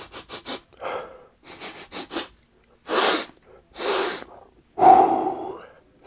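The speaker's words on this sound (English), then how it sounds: "we got to come in for a sniff test." Repeated sharp sniffs and snorts at a new Kill Team: Salvation Warhammer 40K miniatures box, close and loud, coming in clusters of quick inhales with pauses between and a longer breathy one at the end.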